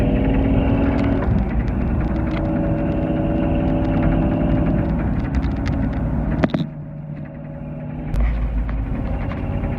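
A restored classic car on its first test drive, a loud, steady engine drone close by with rumbling low tones, a sharp thump partway through, then the engine note shifts and settles.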